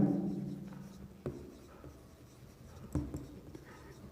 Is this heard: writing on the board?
yes